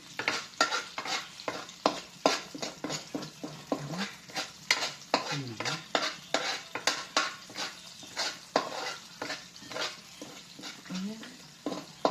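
Grated coconut frying down in a pan until its oil comes out, steady rhythmic stirring scrapes and metallic taps over a soft sizzle, close by, with a voice briefly heard in the background.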